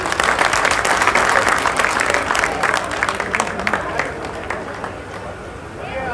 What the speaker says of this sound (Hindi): ऐसे हमारे सिरसा भाई, इनके लिए भी जोरदार ताली बजा दी।